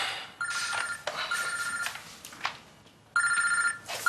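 A telephone rings indoors in two separate bursts of trilling bell, with a pause between them. It is moderately faint against the quiet room.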